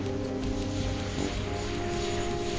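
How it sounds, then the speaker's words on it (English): White Knight 2, a twin-fuselage carrier aircraft, rolls to a stop on the runway after its first-flight landing, a steady loud engine drone and rumble holding throughout with no talk. "The team holds their breath until White Knight 2 wobbles to a stop."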